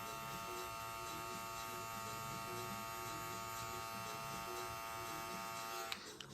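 Electric hair clippers buzz steadily and close up with no guard fitted while a mid taper fade is cut, a continuous tonal hum that cuts off abruptly near the end.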